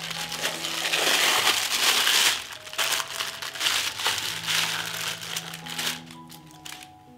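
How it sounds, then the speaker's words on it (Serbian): Bacon pulled from a crinkly plastic bag after being chilled, with loud rustling and crumpling through most of the stretch, tapering off near the end. "I izvadit ćemo slaninu iz kese."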